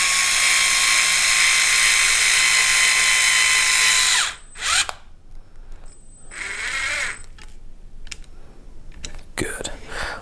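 A power driver drives long screws into a Vanquish VRD Carbon RC car build, whining steadily and loudly for several seconds, then stopping into short bursts and clicks.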